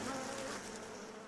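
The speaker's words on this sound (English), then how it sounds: "There's 6 million bees that are flying around." Honeybees from a huge swarm of about six million buzz at a Hawaii farm that supplies honey for brewing. The hum is dense, continuous and steady, moderately close, with no voices over it.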